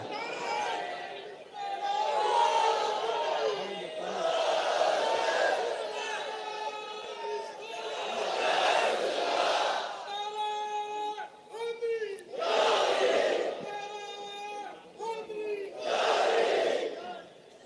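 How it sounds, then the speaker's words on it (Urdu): A large crowd shouts slogans in unison, loud waves of massed voices rising and falling with brief gaps, sometimes sustained like a held chant, close and powerful. "تھوڑے اتنے نعرے ہیں, ذرا لگاؤ یار"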